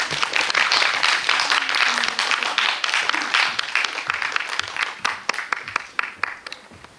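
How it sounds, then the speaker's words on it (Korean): Applause from an audience at a film screening Q&A greets the director and an actress as they walk in, dense clapping that stays strong and then thins into scattered individual claps toward the end. "자리에 들어오시면 큰 박수 부탁드리겠습니다"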